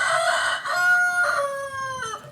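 A rooster crows a long, drawn-out cock-a-doodle-doo near a garden of flowering plants, loud and close, with the call wavering over about two seconds and no talk over it.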